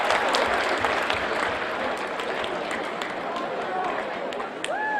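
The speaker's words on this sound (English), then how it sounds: "give yourselves a round of applause and take a seat" An audience in a talk or seminar hall claps in a dense, sustained round of applause, loud and close, with scattered voices mixed into the clatter.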